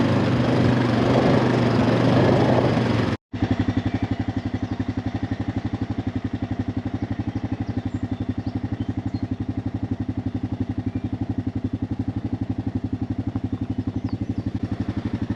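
A small ATV engine runs steadily while riding across a food plot field in the cold, a close, continuous buzzing drone with rapid rhythmic pulsing, briefly cut off once near the start before resuming.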